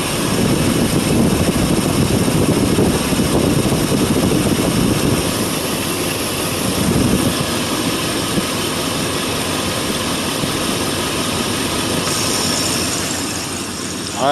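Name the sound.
car engine and AC compressor running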